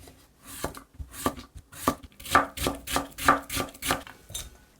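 A knife cutting cucumber into thin strips on a cutting board for a chilled cucumber soup, a quick run of about a dozen crisp, evenly spaced chops, close and clear with no talking.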